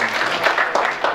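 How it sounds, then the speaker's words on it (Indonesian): A short patter of applause from an audience at a regional party roadshow gathering, scattered hand claps, moderately loud and brief. "Tepuk tangan"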